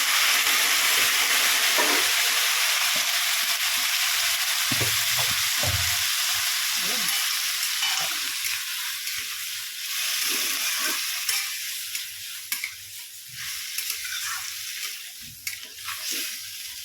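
Spring onion greens sizzle steadily in a hot pan after a splash of water, a dense frying hiss with occasional stirring scrapes and soft clinks, close and continuous, fading slightly toward the end.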